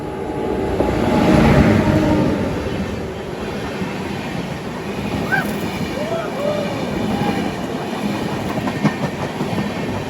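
Humsafar Express train rolling on rails, a steady rumble with faint clickety-clack and occasional wheel squeals throughout, heard from inside the coach.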